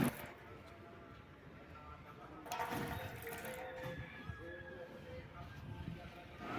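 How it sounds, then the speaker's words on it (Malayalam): Water runs from an opened tap at a railway station, giving a soft continuous splash with a fuller gush partway through, heard faintly among quiet station ambience and some background voices. "പൈപ്പ് തുറന്ന് വെള്ളം വരുന്നുണ്ടോ നോക്കാം"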